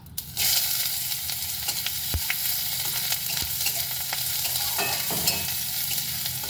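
Onions sizzle and crackle steadily in hot oil while being stirred, a close, continuous frying hiss with occasional scraping clicks from a utensil, after green chillies were fried for shrimp khichuri.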